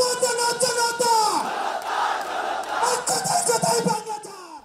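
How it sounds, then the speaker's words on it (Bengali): Jubilant crowd on Manik Mia Avenue in Dhaka chanting revolutionary slogans: many voices shout in rhythmic unison, the chant rising and falling in loud, close waves with brief pauses between phrases. "মানিক মে এভিনিউতে তখন উল্লসিত জনতার বিপ্লবী স্লোগান।"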